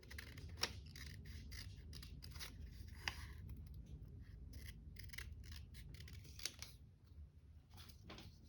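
Scissors cutting: faint, close snips and rasping cuts come in irregular bursts, scattered clicks and sharp strokes over a quiet background, no talking.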